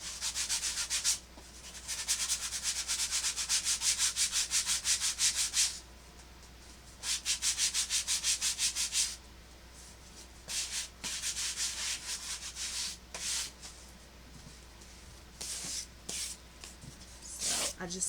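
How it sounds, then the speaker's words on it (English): Light hand sanding of a craft piece for a memory clothes wall hanging, several short bursts of rhythmic scratchy rubbing separated by pauses, close and fairly soft. "I'm going to sand this just a little bit."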